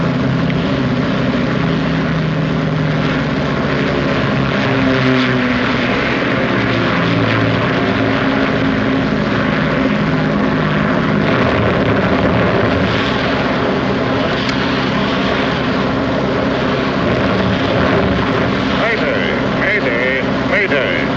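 Propeller aircraft engines droning steadily in flight in a 1954 war film, one starboard engine on fire, a dense continuous roar running throughout with voices talking over it.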